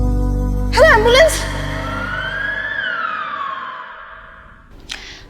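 An ambulance siren wails in a long rising-and-falling sweep that fades over several seconds, preceded by a brief voice and followed by a short sound near the end.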